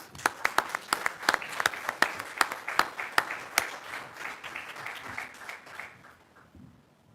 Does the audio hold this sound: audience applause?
yes